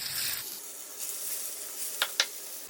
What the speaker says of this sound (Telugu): నూనె బాగా కాగినాక చేపలు వేసుకోవాలి